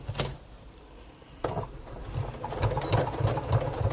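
A sewing machine stitches a tote bag handle, first starting and stopping, then settling into a close, rapid, rhythmic whir of needle strokes that builds in the second half.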